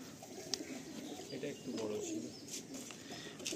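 Low, soft cooing from Andhra flying pigeons carries through the air in a loose sequence, moderately close, with faint murmuring voices and outdoor noise beneath.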